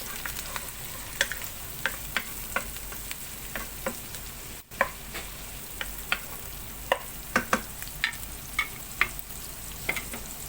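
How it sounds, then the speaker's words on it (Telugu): Onion, tomato and ginger-garlic paste fry in a pan with a low continuous sizzle, broken by sharp clinks and scrapes of a spoon stirring at irregular intervals, close up with no talking. "కొద్దిగా ఫ్రై అవ్వనివ్వండి."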